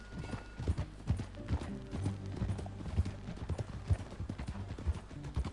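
Horse hooves clip-clopping at a steady riding gait in Red Dead Redemption 2, the rhythmic beats close and clear over a low ambient bed, with a faint whinny hinted at.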